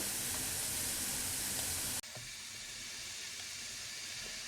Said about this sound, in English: get that sauteing